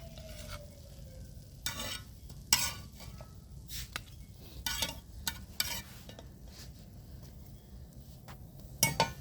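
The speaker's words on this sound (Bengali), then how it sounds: "এই তো পিঠা ভাজা হয়ে গেল কলা ডিম দিয়ে" Banana and egg pitha frying in a pan, a soft background sizzle broken by scattered clinks and scrapes of a utensil against the pan and dishes, near and fairly quiet.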